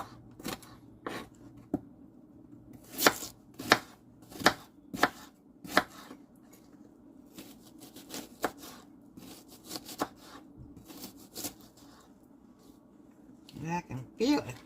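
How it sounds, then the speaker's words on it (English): Knife chopping onions on a cutting board: a series of sharp, close, irregular chops, some clustered in quick bursts, with quiet pauses between and a soft voice murmuring faintly in the background. "I cut it differently than I normally would cut my onions"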